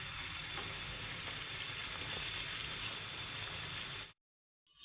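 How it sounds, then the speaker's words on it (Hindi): Mung dal roasting in a pan gives a steady, close sizzle with a constant frying hiss that runs unbroken, then cuts off abruptly near the end. "ये देखें, बस 1-2 मिनट हम इसको और भूनेंगे।"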